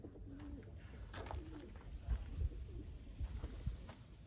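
Soft pigeon cooing in a loft, several low repeated coos close by, with faint rustling and shuffling in a quiet enclosed space.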